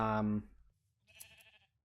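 A sheep bleats once in the Minecraft-style game Razcraft, a short, thin in-game cry that follows a loud voice and fades out quietly.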